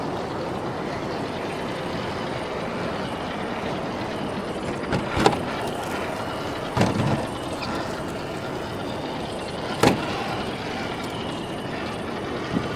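A Rlaarlo JK-07 RC jeep runs in high gear on 3S power, its motor and drivetrain giving a steady whirring grind throughout, broken by a few sharp clunks and knocks.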